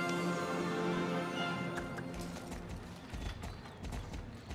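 Horse hooves in the video game Star Stable Online thud in a quick, steady clip-clop rhythm as a horse jumps, with a droning background hum and no voices.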